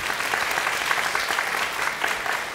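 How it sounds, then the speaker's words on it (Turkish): An audience at a Quran recitation competition applauds, a dense, steady burst of clapping with no talking. "alkışlıyoruz kendisini."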